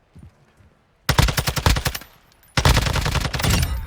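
A video-game gun fires at a wall in two rapid automatic bursts, each about a second and a half long, loud and close. Faint sounds come before the first burst.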